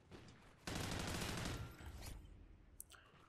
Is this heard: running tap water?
no